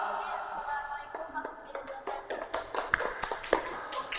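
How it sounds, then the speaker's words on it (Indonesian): A small classroom of students claps for the second presenting group, with scattered, uneven hand claps building into a quicker patter of sharp taps up close. "Berikan tepuk tangan untuk kelompok 2"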